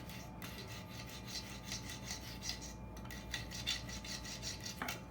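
Bullwhip plaiting on a 12-foot whip is rubbed firmly to even out and tighten it, making a steady, close, rasping scrape in repeated rhythmic strokes with no talk.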